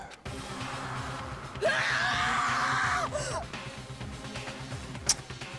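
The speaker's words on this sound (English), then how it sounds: "A wild, almost primeval scream escaped from my mouth." A character in the Danganronpa video game lets out a wild, drawn-out scream lasting over a second, loud and strained, set against a low droning background with a sharp hit near the end.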